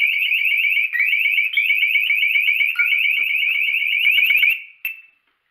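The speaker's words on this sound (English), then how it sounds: "I got the beeper." Electronic beeper emitting rapid, piercing repeated beeps in a continuous run for several seconds, close and loud, shifting pitch slightly before ending with a final short chirp.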